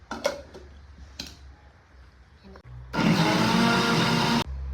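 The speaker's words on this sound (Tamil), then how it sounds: "இப்போ பிளெண்ட் பண்ணிக்கலாம் ஸ்மூத்தாக." Electric blender running on a milkshake with a little added water, loud steady whirring burst that starts abruptly partway through and cuts off after about a second and a half, preceded by clicks and handling noises.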